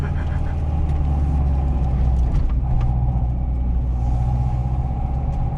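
Engine of a 1995 Acura Integra GSR with a manual gearbox, a steady loud rumble held close throughout, with no clear rise and fall of revs.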